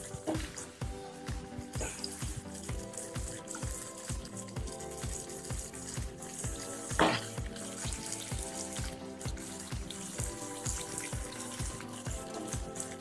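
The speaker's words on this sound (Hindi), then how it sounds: "अब हम इसे धीमी आँच में प्याज को पका लेते हैं" Onions cooking slowly in a pan over a low flame for chole, a soft continuous sizzle under steady repeated stirring clinks from a spoon, close and moderate in level, with one brief sharper scrape partway through.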